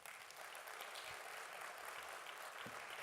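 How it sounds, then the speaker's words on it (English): A meeting audience applauds a visiting speaker, a steady wash of clapping throughout, faint and somewhat distant. "let's give him a big round of applause"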